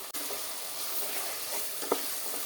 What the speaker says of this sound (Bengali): মশলাগুলো মোটামুটি আমার ভাজা হয়ে গেছে